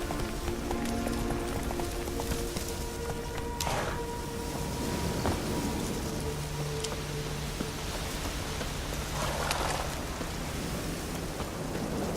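Horse galloping in Witcher 3: Hearts of Stone, a steady, continuous clip-clop of hooves under a dense, rain-like wash of noise, with no pause across the whole stretch.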